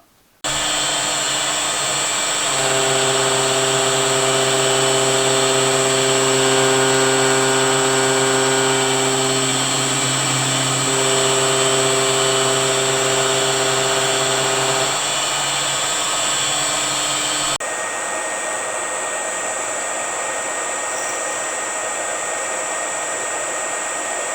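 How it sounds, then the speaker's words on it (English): A machine cuts the 32 teeth of a brass clock fusee ratchet with a 5° undercut. A steady, loud motor whine holds throughout, with a harder, shifting cutting tone layered over it from about 2 to 15 seconds before it settles back to a plain hum. "Next I'm going to cut the fusee ratchet."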